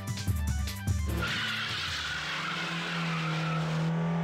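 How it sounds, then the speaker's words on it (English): Car engine in a night downhill racing video game roaring as the car speeds off, a few revving bursts followed by tire squeal and a sustained rising engine whine, loud and close, with no talk. "The engine roars and the harpoon vanishes."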